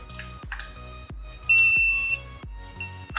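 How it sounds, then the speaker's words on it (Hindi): An electronic buzzer wired on a breadboard circuit sounds in regular rapid pulses, about two per second, loud and close, with a brief steady higher tone in the middle. "बजर भी चल गई।"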